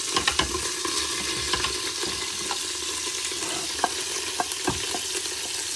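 Onions fry in a hot pan as they are stirred, giving a steady loud sizzle with scattered sharp clicks and scrapes of a utensil against the pan throughout.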